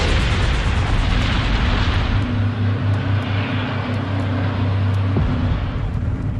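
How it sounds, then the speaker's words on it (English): A continuous loud roar with deep low rumbling and a sharp burst near the end, like distant explosions and fire, from a plane crash. "The air traffic controllers hear the explosions"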